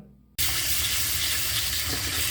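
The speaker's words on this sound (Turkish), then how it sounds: "Şöyle soğuk su döküyorum üzerine." Cold water splashes and pours steadily over coarse bulgur to rinse it, a sudden gush after a brief quiet start that keeps running loudly like a filling sink.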